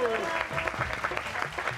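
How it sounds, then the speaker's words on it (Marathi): Crowd applause for two winning wrestlers at a village wrestling event in a Marathi TV serial, a brief burst of clapping with voices talking over it. "तेव्हा मी सगळ्यांना विनंती करतो की टाळ्या वाजवून त्यांचं कौतुक करावं."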